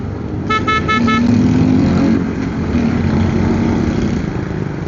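Road traffic near Antipolo Market, with a car horn giving several quick toots early on over a steady engine hum and passing vehicles.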